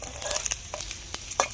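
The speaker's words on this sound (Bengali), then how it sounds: "আলুটা লাল লাল করে ভেজে নিয়েছি" Potato pieces frying in hot oil for chicken biryani give a continuous crackling sizzle, with brief stirring scrapes rising above it at a close, moderate level.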